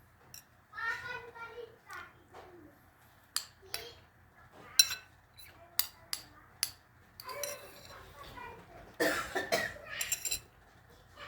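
A person coughs in several short bursts spread through the clip, alongside a voice and faint clinks of a glass, close and fairly quiet in an indoor afternoon-snack setting.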